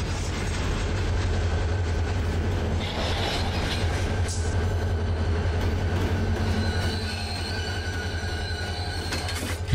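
Train locomotives rolling through a large rail yard in the Run 8 Train Simulation game, a steady loud rumble of wheels and engines with faint squeals and clatter, continuous throughout and no talking.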